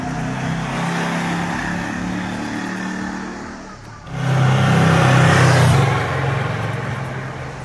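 A 1984 Yamaha VMAX motorcycle with its V4 engine cruises in fifth gear on light throttle, a steady close engine drone that swells louder around the middle before easing back, with no talk.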